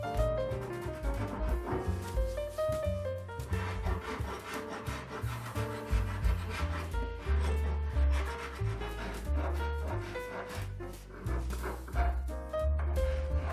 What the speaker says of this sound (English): I also used a few different files as well to get a nice variation in the texture on the edge.